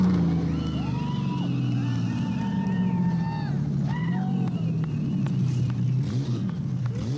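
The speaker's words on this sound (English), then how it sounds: "Javier Sasio, driving the number 726 truck, successfully crosses the finish line in the Ducati 250" A number 726 off-road race truck drives toward the finish line of the 1993 San Felipe race. Its engine drone runs steadily throughout under wind noise, with brief higher tonal sweeps layered over the rumble.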